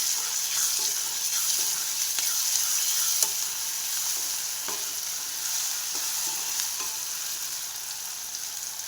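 Tomatoes with salt stir-frying in a pan for upma give a steady close hiss, with spatula scrapes and taps now and then and no speech.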